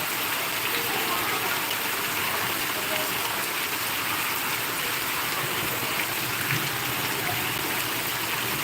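Heavy rain pours outdoors in Ramancha, a dense, constant, loud hiss of water that never lets up, with no voices over it.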